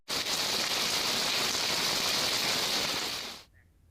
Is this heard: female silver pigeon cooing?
no